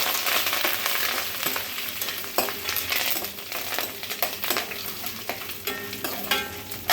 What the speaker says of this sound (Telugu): కొంచెం జీలకర్ర, ఎండుమిర్చి, గుబ్బగ్గుమంటుంది.